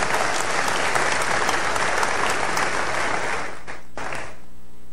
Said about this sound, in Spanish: Y le dio un buen aplauso al Señor